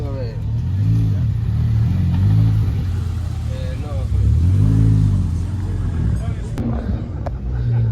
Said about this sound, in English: Well, the Lamborghini just revved.